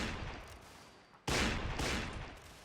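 Musket gunfire in a Mount & Blade line battle with the Union Army in the North & South mod, a low crackle that breaks into a sudden loud volley partway through and then trails off.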